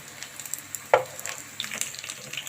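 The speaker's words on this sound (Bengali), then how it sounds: "দেখেন লাল করে ভেজে নেওয়া হয়ে গেছে" Chicken kati kebab frying in a pan, a steady close sizzle and crackle with a stirring clatter near the middle, alone without talk.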